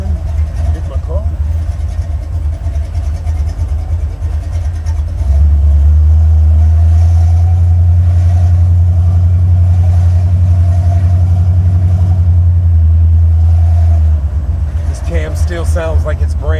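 A Buick Regal-T with a 455 engine rumbles at a heavy, steady idle, then swells into a long, loud sustained rev before settling back, recorded close while people talk over it.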